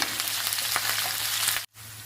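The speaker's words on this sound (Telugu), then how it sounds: "కరివేపాకు, ఈ మూడు ఒక నిమిషం వేయించుకుందాము." Curry leaves, green chilies and spices frying in oil in a pan for an ivy gourd fry, a steady close sizzle filling the clip before a brief cut to silence and a quieter sizzle resuming.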